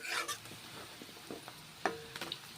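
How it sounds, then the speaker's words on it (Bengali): Sliced ridge gourd fries in a pan with onions, giving a quiet, faint sizzle broken by a few scraping stirs of a spatula against the pan. "এরপর এখন আমি ঝিঙেগুলোকে ভেজে নিচ্ছি"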